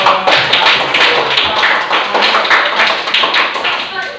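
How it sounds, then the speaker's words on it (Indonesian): A classroom of students applauds a presenting group, with dense, loud clapping sustained throughout alongside scattered voices. "Beri aplaus untuk kelompok."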